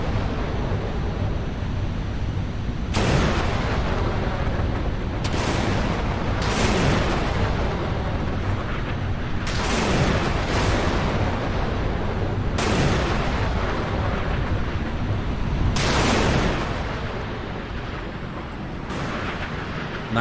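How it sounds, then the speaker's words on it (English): A salvo of missiles launching from warships in the naval video game Sea Power: a string of loud, sharp launch blasts, each trailing into a roaring rush, repeating at irregular intervals over a steady rumbling background. "That is a lot of missiles being fired."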